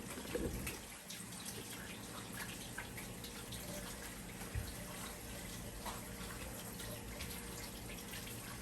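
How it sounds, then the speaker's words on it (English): Tap water runs at a sink as hands are rinsed, a faint steady hiss and patter that carries on from start to finish, with a soft thump near the start and another midway. "I'm gonna rinse my hands real quick."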